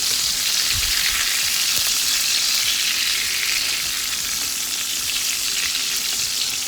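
Ribeye steak sizzles steadily in a hot pan topped with thyme and rosemary, a loud, continuous frying hiss with faint crackles and occasional spoon scrapes, no talking.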